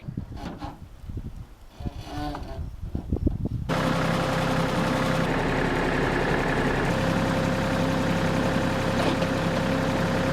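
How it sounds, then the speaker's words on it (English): A tractor engine starts up and settles into a steady, loud idle, a constant low rumble with a drone that holds unchanged for several seconds. "Stacy, with his mad tractor skills, has managed to get our little platform leve"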